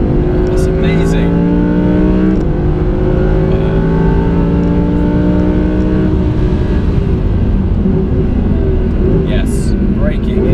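An Audi R8 V10 Plus on a track roars loud and continuous from inside the cabin, engine pitch climbing through the gears on the straight before dropping and settling as it brakes, with people talking over it.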